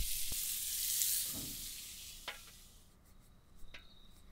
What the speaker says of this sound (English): we're gonna start by adding a few strips of good thick cut bacon